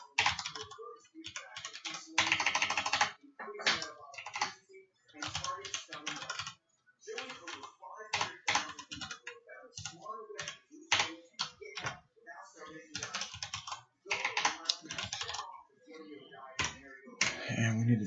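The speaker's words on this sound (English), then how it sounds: "So I'm going to go ahead and type in system." Fingers type steadily on a computer keyboard while coding in a programming editor, producing a continuous clatter of close, crisp key taps in uneven bursts with brief pauses between them.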